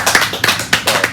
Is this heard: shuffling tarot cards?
no